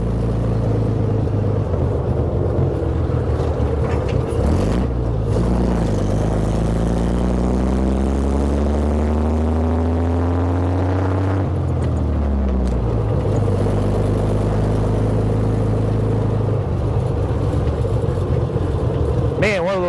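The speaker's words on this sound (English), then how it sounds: "now we're in 4th gear, going up a pretty darn steep hill here. We're accelerating a little bit up the hill" A Sanford vehicle's engine pulls hard in 4th gear up a steep hill, a loud, close, steady rumbling drone whose pitch climbs gradually as it accelerates, with a brief shift-like dip midway and a voice talking over it.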